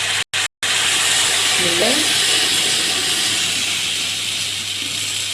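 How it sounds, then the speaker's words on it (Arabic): Tomatoes hit browned onions frying in a pan for koshari sauce, setting off a steady, close hiss and sizzle that carries on evenly after a brief spoken word at the start. "هقلب البصل كويس لغايه ما اللون يحمر معايا، وبعدين هنبتدي نحط الطماطم"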